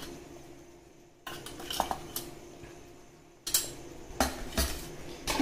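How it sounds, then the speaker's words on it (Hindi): A utensil stirs and mixes spices in a pot for masala bhat, scraping and clinking against the metal in two short bursts separated by a quiet pause. "इसको अच्छे से मिला लेंगे।"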